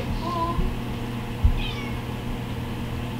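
A house cat meows twice in a kitchen where guacamole is prepared, one short call near the start and a brighter, higher mew midway, each alone over a low steady room hum.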